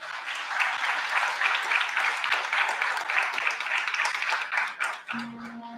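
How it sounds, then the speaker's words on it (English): An audience at a signing day event applauds a student in a loud, steady round of clapping that fades out near the end, where a voice begins. "Let's give Trina a round of applause."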